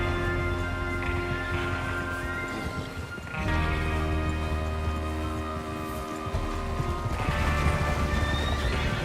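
In Red Dead Redemption 2, a horse whinnies loudly over steady clip-clopping hooves and a busy background of other hoofbeats and movement, continuous throughout.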